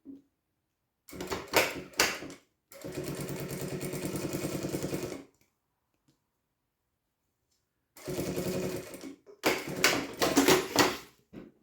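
A sewing machine stitching bias binding along the edge of a PVC pen holder, running in several close bursts of fast, even needle rattle separated by silent pauses.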